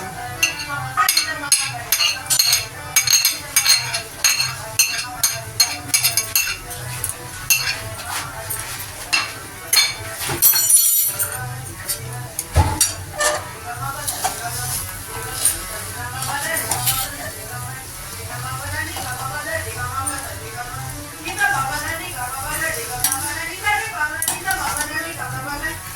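Paneer stirred and fried in a pan for green momo, steady sizzling with frequent scraping and clinking of a utensil against the pan, close and continuous, with someone talking over it.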